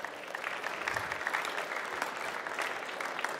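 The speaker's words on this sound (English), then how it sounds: "big applause for Tim." An audience at the Formnext industry stage trade-fair event applauds after a talk, with steady, dense clapping throughout and no talk over it.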